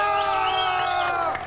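A studio audience cheers and applauds for country music on a Chilean TV entertainment show, a dense, loud and continuous roar with whoops and shouts, filling the short moment without a break.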